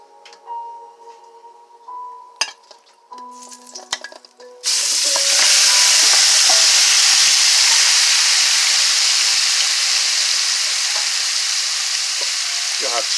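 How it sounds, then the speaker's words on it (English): Rib tip meat hits hot vegetable oil in a pan at about five seconds and keeps up a loud, steady sizzle of stir frying after a few quieter clinks and handling noises. "Put those bad boy meat to kind of stir fry in this pan here now"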